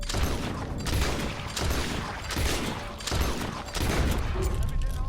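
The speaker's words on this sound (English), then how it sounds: "Why are you shooting at thin air?" Repeated gunfire from the video game Red Dead Redemption 2, heavy bursts of shots recurring in clusters about every second, loud and close, with game sound behind them.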